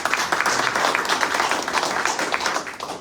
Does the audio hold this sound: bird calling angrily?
no